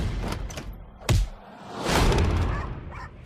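A door thuds shut hard with a sharp slam, then rattles and clunks as if locked, amid rustling movement in a room.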